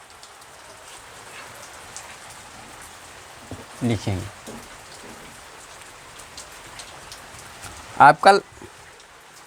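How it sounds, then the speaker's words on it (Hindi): Rain falls steadily on a surface as a constant hiss, with someone speaking briefly over it during a maths lesson. "बारिश हो रहा है साथियों"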